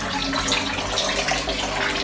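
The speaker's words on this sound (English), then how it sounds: "And water is running." Tap water runs steadily into a laundry tub being filled for hand washing, a continuous close splashing gush that holds an even level throughout the short stretch, with no talk.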